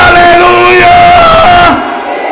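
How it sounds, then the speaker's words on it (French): A church congregation shouts together in a loud, sustained collective cry of Alleluia, voices massed and close, lasting about two seconds before trailing off into quieter room sound. "Crie Alléluia!"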